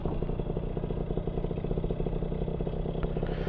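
A motorcycle with drum brakes pulls away at part throttle, its engine giving a steady, close, pulsing mid-pitched drone with a rattly, clattering texture.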